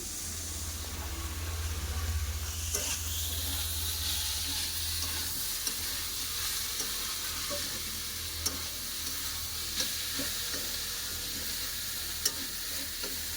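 Cabbage and bottle gourd stalks sautéing in a pan for a Bengali ghonto, with a continuous soft sizzle and occasional faint stirring clicks throughout.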